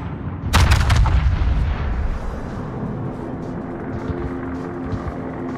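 Naval artillery firing in the World of Warships game, a single heavy close salvo boom that rolls off into a rumbling tail, followed by the low ambient drone of the ship at sea.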